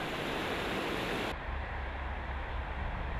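Rushing water of the Kinzig river rapids at a former weir site, a steady broadband roar that shifts abruptly partway through to a lower, duller rumble, continuous with no voices.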